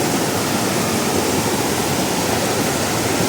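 Water rushes steadily along a forest trail stream near the Dao Krajai waterfall, a dense, continuous broadband roar that stays loud and even throughout with no voices.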